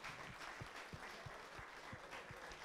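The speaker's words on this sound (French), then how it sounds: "On peut t'applaudir encore une fois d'avoir fait le topo de Rennes" A conference session audience applauds, a faint, steady spread of clapping from many hands filling the room at a distance.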